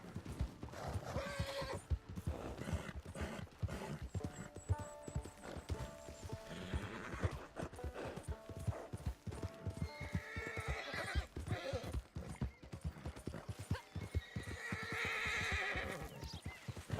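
A horse in the video game Red Dead Online gives loud whinnies over steady clip-clop hooves, with a quiet voice now and then.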